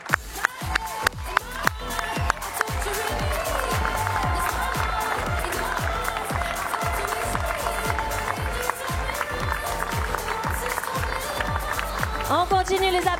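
An audience at a pastry world cup prize ceremony in Europe claps loudly and steadily, starting with a few sharp claps and swelling into sustained applause with some cheering, while an announcer speaks over it.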